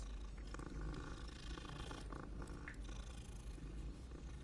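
Cats purring in Hogwarts Legacy video game, a faint, steady low rumble that runs unbroken under a soft ambient background.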